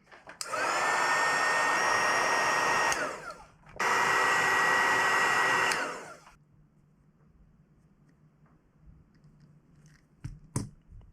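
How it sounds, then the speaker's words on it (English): A heat gun blows in two steady bursts of roughly two and a half seconds each while shrinking heat shrink tubing over airsoft gun wiring, followed by quiet handling clicks and small taps. "Heat shrink on."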